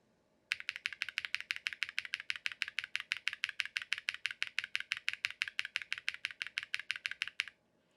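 Steady, even typing on a Mr. Suit TKL keyboard with Durock POM switches and ABS keycaps, a long run of crisp, close keystrokes in a quick regular rhythm, with no talk.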